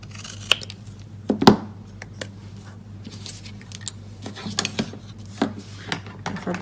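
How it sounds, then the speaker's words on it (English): Long bladed scissors cutting paper for a craft box, a series of sharp snips and clicks, irregular and close, with light handling noises between cuts. "So let's just cut that down. I find using long bladed scissors the best."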